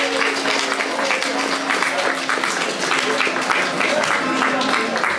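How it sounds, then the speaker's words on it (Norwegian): Applause from a concert audience at a live show in Bergen, a dense, steady wash of clapping that fills the room loudly and evenly from start to finish. "Så jeg skal gi henne en applaus selv om hun ikke er i kveld."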